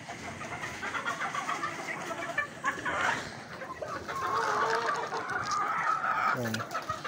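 Chickens, including fighting roosters, cluck busily while being fed outdoors in the rain, a steady soft patter underneath and someone talking quietly at moments.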